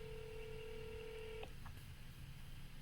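A phone places a call with a steady dial tone that stops abruptly, followed by a couple of faint short beeps, quiet and close.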